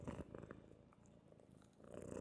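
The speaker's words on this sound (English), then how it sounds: "Are you purring right into my microphone?" A cat purrs right up against a microphone, a close, low, rumbling purr that rises and falls in steady breaths, alone and fairly faint.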